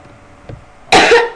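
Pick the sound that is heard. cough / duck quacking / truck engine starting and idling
cough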